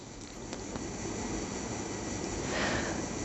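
A steady broadband whoosh of a ceiling fan running, constant and even throughout with no talking.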